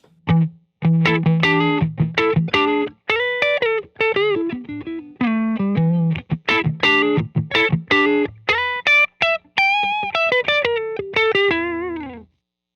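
Clean electric guitar riffs from a Nash S-63 ring through a Benson amp with Monarch Reverb, plucked notes and chords played in quick phrases, close and alone with tails lingering between.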